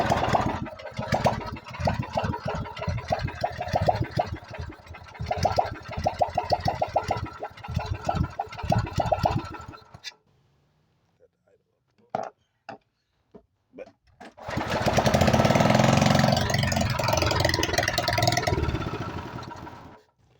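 A 196cc small engine runs on choke with a rough, rapid chugging for about ten seconds, falls silent apart from a few brief knocks, then starts on a pull and idles with a steady, loud hum.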